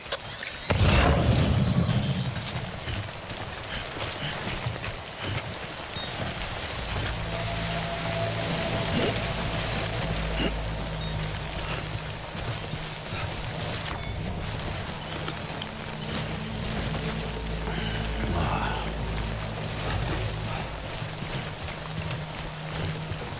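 Rain falls steadily in the video game Death Stranding, a dense patter of drops under game sounds and a low droning tone, continuous from start to end.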